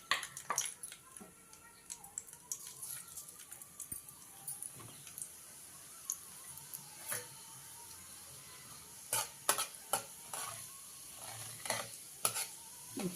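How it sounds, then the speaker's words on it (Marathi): Mustard seeds and then cumin crackle in hot oil in a pan, faint scattered pops and light sizzling with clusters of sharp crackles, under quiet talk. "मोहरी तडतडली की आपण त्याच्यामध्ये जिरे टाकूया।"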